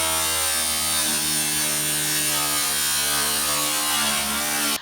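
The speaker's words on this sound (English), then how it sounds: "I saw the blade going through the roof of my brand new van" A power blade cutting through the metal roof of a brand new van gives a loud, steady, high-pitched buzzing whine that runs unbroken for several seconds and stops abruptly at the end.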